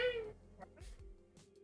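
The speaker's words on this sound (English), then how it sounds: "The vital cat noises." A house cat gives one short meow right at the start, close and clear, followed by a few soft thumps and faint background noise.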